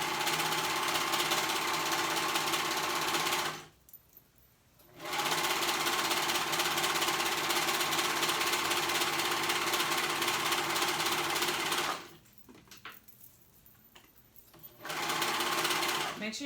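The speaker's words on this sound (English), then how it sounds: "we're going to go ahead and go all the way around that seam and sew it together" A sewing machine stitches the leg seam of a pair of jogger pants in steady, fast mechanical runs, pausing briefly twice before resuming at a moderate level.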